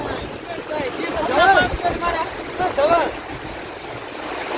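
Steady rushing water fills the background, with voices talking over it throughout.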